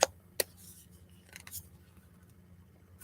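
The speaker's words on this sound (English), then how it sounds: "Gotta be careful because these cards will fly all over the place. Cut the deck." A deck of oracle cards is cut and handled nearby, with a few sharp snaps and soft papery shuffles spread across a quiet background, no voices.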